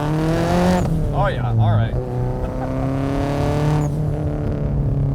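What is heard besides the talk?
turbocharged Subaru Impreza STI accelerating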